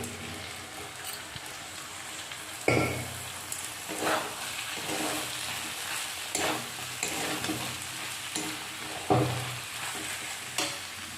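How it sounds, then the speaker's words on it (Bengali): Ginger, cumin, chili and tomato paste sautéing in a pan, a steady close sizzle broken by several sharp stirring scrapes at irregular intervals, with no talking. "তারপরে আদা জিরা লঙ্কা আর একটা টমেটো বাটা দিলাম এটাকে ভালো মতন করে কষাবো"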